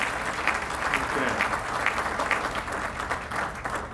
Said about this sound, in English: If you are here, please stand up and have a little applause for you.